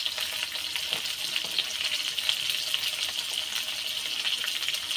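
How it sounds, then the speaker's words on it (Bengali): Potato pieces fry in hot oil in a pan while cooking a rohu fish curry, giving a steady, loud, dense sizzle with crackling throughout and no voices. "আলুগুলো একটু এই তেলেতেই আলুগুলো লাল লাল করে ভেজে নেব।"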